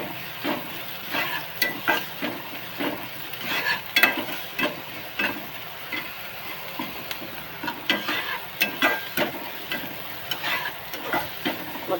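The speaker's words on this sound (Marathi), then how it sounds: "आता कांदा चांगला भाजून घ्यायचा." Onion sizzles steadily in a hot pan for a French bean bhaji while a spoon stirs it, scraping in a regular back-and-forth rhythm close up, with no talking.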